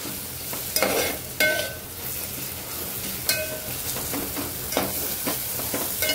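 Homemade garam masala sizzles steadily in a hot pan, with a spoon repeatedly scraping and stirring through it in uneven strokes, close and moderately loud.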